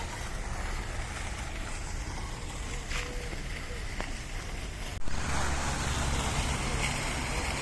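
Sea waves washing at the port of Malaga, Spain, a steady broadband wash of water with boat and harbor ambience, growing slightly louder after a soft knock midway.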